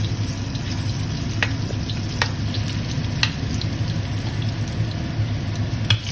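Anchovies and whole garlic cloves frying in oil give a steady, close hiss of sizzling throughout, with a few sharp pops and spatters breaking through now and then.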